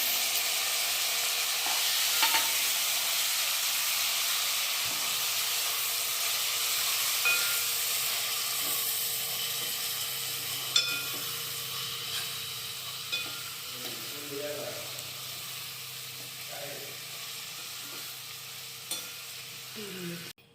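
Tomato tempering frying in a pan: a continuous soft sizzle and hiss with scattered stirring scrapes and clicks, moderately quiet and close, no talking.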